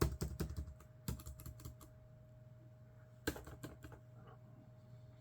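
Keys tapped on an old Dell laptop with badly damaged hinges, a quick cluster of clicks, a pause, then another short burst, close up and quiet over a steady electrical hum.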